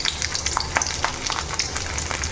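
Ginger and garlic fry in hot coconut oil, a steady dense sizzle with crackling pops and a few stirring clicks close by, no voices.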